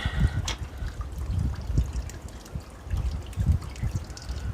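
Motor oil pumped into a generator during an oil change makes a close, irregular liquid trickle and gurgle, with soft sloshing pulses throughout and no talking.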